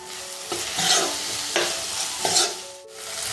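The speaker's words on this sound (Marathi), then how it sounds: "हे सर्व परत व्यवस्थित एकत्र परतून घ्यायचं" Vegetables and beans being stirred and sautéed in a pan for a traditional Konkan walache birde (field bean curry), with steady sizzling and a few scraping strokes of the spoon, close and clear with no talking.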